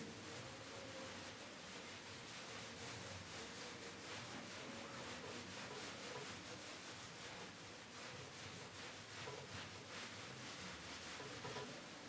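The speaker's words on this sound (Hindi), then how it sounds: "मैं इनको रब कर देता हूं" Continuous scrubbing of writing being erased from a board, a close, steady rapid rubbing with fine rhythmic strokes lasting throughout, no talking.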